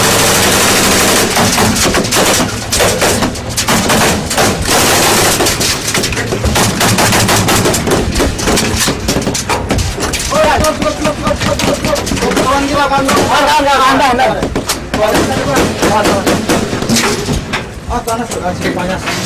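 Sustained machine-gun and rifle fire during armed conflict in Aceh, dense rapid bursts of shots crackling continuously and loudly throughout, with voices shouting among the gunfire.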